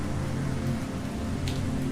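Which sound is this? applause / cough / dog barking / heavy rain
heavy rain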